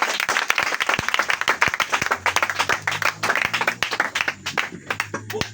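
A church congregation claps and applauds, a dense run of close, sharp handclaps that comes in waves, with a low hum of voices underneath toward the end.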